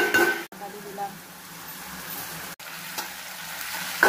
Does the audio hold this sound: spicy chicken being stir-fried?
yes